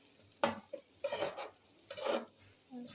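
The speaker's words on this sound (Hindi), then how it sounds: "प्याज को ब्राउन कर रही हूँ।" Onions browning in a pan, heard as a few close scraping and stirring strokes of a utensil against the cookware with soft sizzling between, fairly quiet, no talking.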